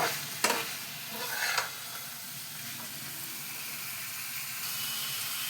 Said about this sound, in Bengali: দেখো আলুগুলো এর মধ্যে দিয়ে ভেজে নিলাম।